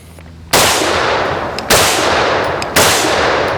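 AR-15 rifle firing at an outdoor shooting range, three loud close shots about a second apart, each with a sharp crack and a long ringing decay.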